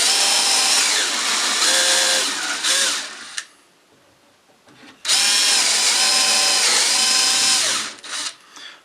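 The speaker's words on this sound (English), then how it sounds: "carefully drill these out." A power drill whirs loudly in two bursts, pausing briefly in between, with pitch dipping as the bit bites into the wood.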